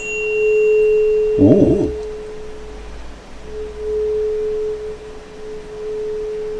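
A signal generator emits a steady pure sine tone for stationary-wave demonstrations, continuous and fairly loud, briefly interrupted by a short voiced exclamation, with the tone swelling and fading slightly as the microphone moves.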